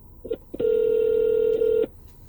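Phone call being placed: a few short beeps, then a single long steady tone of over a second, loud and close, with faint background noise and no talk.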